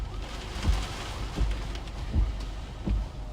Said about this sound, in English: now it's raining hard again